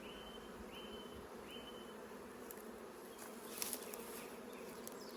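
Honey bees buzz steadily around a nuc holding honey, larvae and pollen, a close, continuous drone with a few brief higher whines passing near.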